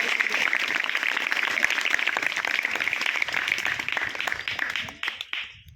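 Parents applaud at a school parents' meeting in a hall, a dense, steady burst of clapping from a crowd that holds strong for several seconds before thinning out and fading near the end.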